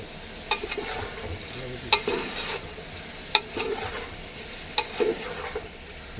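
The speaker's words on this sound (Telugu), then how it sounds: "ఉడకబెట్టిన కాకరకాయ ముక్కలు వేసేసుకుందాం నూనెలో మంచిగా మిక్స్ అయ్యేలా కలుపుకోవాలి" Boiled bitter gourd pieces fry and sizzle in hot oil as they are stirred, a steady crackle broken by several sharp scraping clicks of the spoon against the pan.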